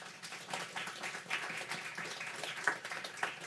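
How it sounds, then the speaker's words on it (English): An audience applauds two speakers, University of Pennsylvania computer science professors, after their introduction: a faint, dense wash of many hands clapping at once that holds steady throughout. "Let's give them a round of applause."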